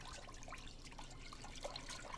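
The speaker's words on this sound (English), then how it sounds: "I rinse it like 3 or 4 times before I cook it." Water sloshing and trickling over rice being rinsed in a bowl, a faint, steady wash of liquid noise with no voices.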